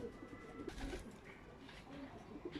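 Tumbler pigeons coo steadily at close range in a loft, a low, soft burbling that continues throughout under a faint background hum.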